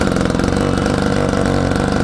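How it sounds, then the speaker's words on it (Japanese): A small two-stroke brush cutter engine idles steadily up close after a recoil start, a loud buzzing drone with a fast, even rhythm throughout. "それからリコイルスターターを引きます。"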